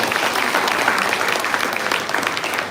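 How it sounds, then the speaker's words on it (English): Audience applause at an innovation workshop: steady, dense clapping from a crowd held at an even level for the whole stretch, with no voices over it. "So please give all of them a very big round of applause."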